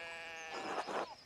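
Sheep bleating in the PC game Pentiment, escaped from a pen through a fallen fence section; a single wavering bleat sounds close and clear over a steady musical drone.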